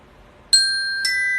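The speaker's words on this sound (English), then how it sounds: "If you hear this ding dong, that means we're going on to the next exercise." Two-note ding-dong chime signalling the move to the next exercise, a bright bell tone struck twice with long ringing sustain, clear and alone in a quiet room.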